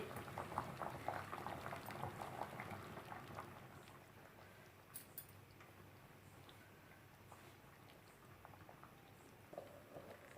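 A covered pot of shengole simmers quietly on low gas, with soft bubbling and ticking under a steady low hiss; a few faint clicks stand out.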